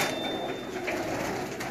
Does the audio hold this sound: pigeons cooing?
yes